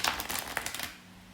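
A quick riffle of cards, a short flurry of crisp flicking taps close up that stops abruptly, followed by quiet.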